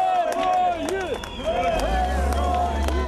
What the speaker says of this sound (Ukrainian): Автобуси з бійцями зустрічали урочисто – оплесками та вигуками